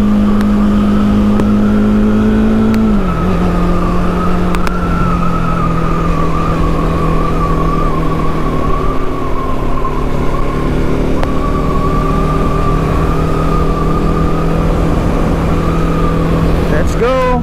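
Motorcycles cruise along a long coastal road in Camarines Sur, a steady engine drone holding throughout with a pitch drop early on, as a rider talks intermittently over the riding noise.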